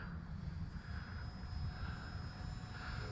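An FMS Skytrainer 182 RC model airplane flies with a steady, faint propeller engine drone, distant and even throughout, with no speech over it.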